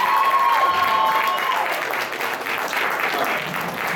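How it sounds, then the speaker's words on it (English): A crowd at an anime convention game show applauds a contestant who has just won $1,000, with loud clapping and some cheering that is fullest at the start and keeps going without pause. "Let's give her a round of applause, guys"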